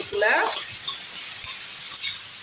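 Tomato and brinjal sauté in a hot pan with a continuous close sizzle, joined early by a short stirring scrape, then frying steadily on its own.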